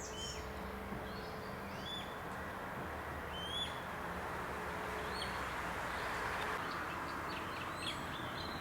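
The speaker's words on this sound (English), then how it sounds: "in the background I can hear a sedge warbler" Faint, scattered chirps and short whistled notes of a sedge warbler's song come from a distance over a steady outdoor background hum, near Faversham, Kent.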